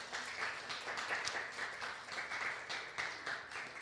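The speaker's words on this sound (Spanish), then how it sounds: "Vamos a dar un aplauso al Señor." Church congregation applauding during a Spanish-language worship service, a steady wash of many hands clapping at moderate, fairly distant level with no talk over it.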